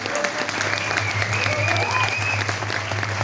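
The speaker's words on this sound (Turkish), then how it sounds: "Hatice Doğan'a büyük alkış" Audience at a Turkish choir concert applauds the choir president Hatice Doğan, a full, steady roar of clapping over a low steady hum, with a faint voice briefly underneath.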